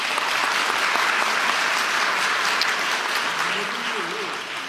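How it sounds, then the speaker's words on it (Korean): A crowd at a political rally in northern Gyeonggi applauds loudly and continuously, a thick wash of clapping that fades slightly toward the end, with faint voices beneath. "박수 부탁드립니다."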